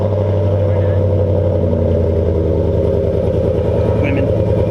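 Idling engine of a 2019 Chevrolet Silverado pickup on its stock intake, a steady low rumble with an even pulse held close and loud throughout, the truck bed open.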